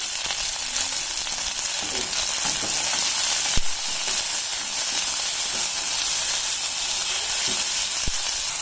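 Fresh green peas and coriander leaves cook in a hot pan for palak paneer, giving a steady, close sizzle and hiss with a few faint stirring clicks and no voices.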